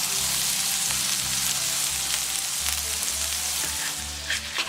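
Oklahoma onion burger patties frying on a hot griddle, giving a steady loud sizzle and crackle throughout with a low hum underneath and no voices.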